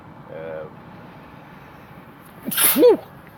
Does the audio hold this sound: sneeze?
yes